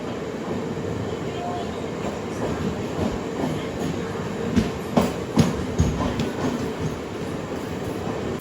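A MEMU passenger train, number 67201 on the Rajahmundry to Vijayawada run, rumbles steadily at Eluru station with clattering wheels and a few louder metallic clanks near the end.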